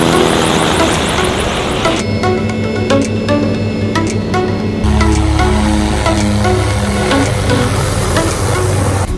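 A steady, loud mechanical drone of a corporate helicopter with a pulsing rotor beat, shifting in tone partway through as it passes.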